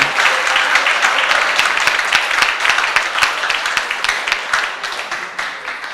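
An audience applauds at the closing ceremony of a 2022 science and technology innovation challenge, with dense, sustained clapping that holds loud throughout and tapers slightly at the end.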